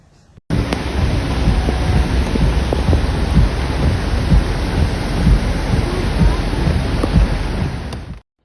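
Heavy rain pours during a severe storm and flash flooding in Hervey Bay, Queensland, Australia, a loud, dense, unbroken roar that starts abruptly and holds steady for several seconds before cutting off, with no voices.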